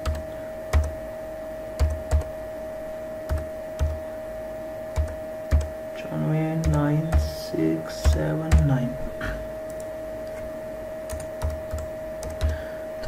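Keystrokes on a computer keyboard while an online exam application form is filled in, sparse taps clicking at an irregular pace, close and clear, with a brief burst of faster typing midway and a steady background hum.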